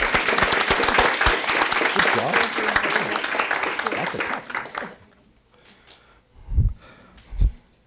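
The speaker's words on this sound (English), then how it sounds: "Let's give a big round of applause." Loud, dense applause fills a school board meeting hall for several seconds, then fades to quiet with a couple of low thumps.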